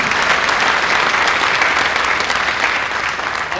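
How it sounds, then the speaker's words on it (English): Loud, steady applause from a crowd at a high school football awards banquet, a dense uninterrupted roar of clapping lasting a few seconds. "So she deserves a round of applause."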